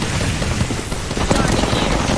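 Enemy gunfire in a video game, a rapid dense rattle of automatic shots filling the whole stretch, loud and continuous like a sustained burst of machine-gun fire.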